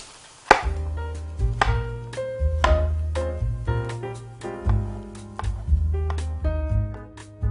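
A knife chops zucchini steadily on a cutting board, repeated crisp knocks in an uneven rhythm, close up, over a low sustained hum.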